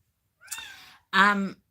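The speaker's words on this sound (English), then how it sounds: "Please excuse the cat if you can hear her meowing." A cat meows twice close by, a thin first call followed by a louder, longer, more tonal meow.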